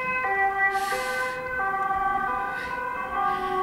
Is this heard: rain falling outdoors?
no